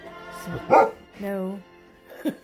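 A dog barks at people outside through a window, a few sharp barks and a drawn-out whine-like bark, close and loud, mixed with a person speaking.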